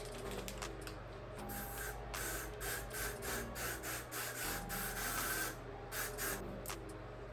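Repeated short hissing bursts of a spray bottle misting hair close by in quick irregular pumps over a steady low background hum.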